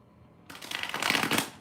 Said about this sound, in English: I'm going to shuffle this full.